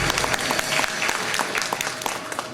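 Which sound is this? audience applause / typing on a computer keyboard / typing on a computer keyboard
audience applause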